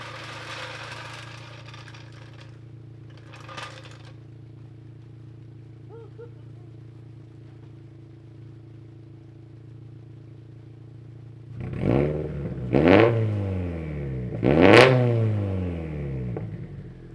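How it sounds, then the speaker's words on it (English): A turbo Subaru BRZ fitted with a Tomei exhaust idles with a low drone, then gets three sharp blips of the throttle, each rev rising quickly and falling back, loud and close. "Let's hear a little bit of revs."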